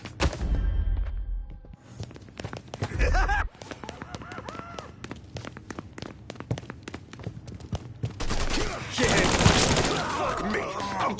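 Mafia 3 gunfight with rapid, loud gunshots in dense volleys over heavy impacts and shouting voices, the shots coming in irregular bursts up close.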